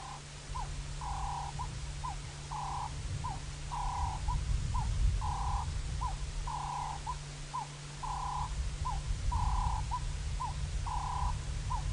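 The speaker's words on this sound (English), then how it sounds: "that is the call of the Cape turtle dove" A Cape turtle dove calls in a repeated rhythmic series of soft cooing phrases, steady throughout, over a constant low hum and background rumble.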